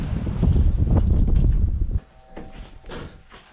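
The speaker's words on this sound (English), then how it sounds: "The wind's blowing 15 miles per hour, and it did blow up to 25 miles per hour." Wind blowing at about 15 to 25 miles per hour buffets the microphone with a loud, low roaring rumble for two seconds, then drops abruptly to a much quieter hiss with light gusts.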